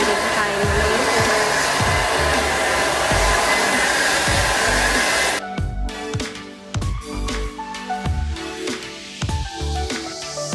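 A hair dryer blows loudly and steadily, then cuts off, leaving quieter rustling and handling noises.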